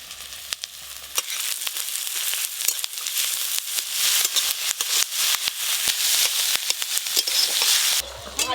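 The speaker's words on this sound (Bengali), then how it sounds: "তেল বেশ ভালো করে গরম হয়ে গেছে, পেঁয়াজ কুচি দেব।" Chopped onions hit hot oil and fry with a loud, crackling sizzle that builds and holds, with stirring scrapes and a brief quieter stretch near the start.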